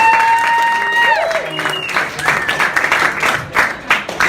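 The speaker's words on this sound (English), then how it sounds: "You guys give yourself a round of applause." Applause and cheering from a comedy club audience builds after a moment of music or voice, with dense clapping continuing to the end.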